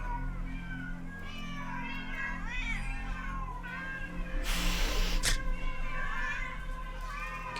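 A cat meows repeatedly in drawn-out, wavering cries, close and fairly loud over a steady low hum, with a brief hiss of noise partway through.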